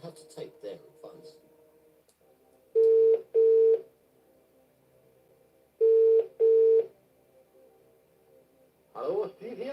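Telephone keypad dialing tones during a game show phone-a-friend call: two pairs of loud, steady beeps separated by a pause, with brief speech before and after.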